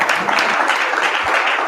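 Audience applause at a Dr. Claud Anderson talk, a dense steady wash of many hands clapping close and loud for the whole moment, with no voices over it.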